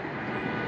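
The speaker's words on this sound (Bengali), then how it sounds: "এখনই ইঞ্জিনের শব্দ শোনা যাচ্ছে অনেক।" A cargo airplane's engines at an airport runway, giving a steady, dense roar that holds even throughout the brief moment, moderately loud and without speech.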